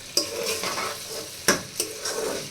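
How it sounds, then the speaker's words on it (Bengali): Rice frying in a pot with ginger garlic paste, shahi jeera, whole black peppercorns and salt, a steady sizzle broken by a few sharp scrapes and clinks of a stirring spoon against the pan. "এখন 5 মিনিট সবগুলো একসাথে ভালো করে ভেজে নিতে হবে।"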